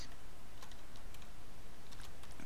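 A computer keyboard being typed on as a URL is entered, with light scattered key clicks over a steady background hiss.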